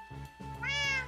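A cat meows once in Minecraft Sky Factory 2.5, a short rising-and-falling mew that stands alone, close and clear after a couple of soft low thuds.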